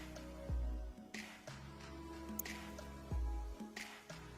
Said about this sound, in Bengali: এখন আমি ভালো করে মশলাটা কষিয়ে নিব।